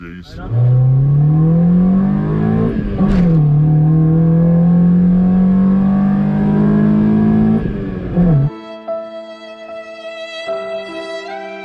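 A Honda B16 engine in an EK Civic revs loudly and climbs in pitch for several seconds, dips, then cuts off and leaves a lower, steadier hum.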